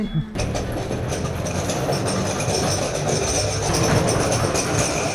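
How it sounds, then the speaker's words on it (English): A funicular tram climbing a hill in Lisbon rumbles and clatters steadily up close, a continuous mechanical drone with faint squeals and rattles, no voices standing out. "this is the elevator tram that just takes you up the hill"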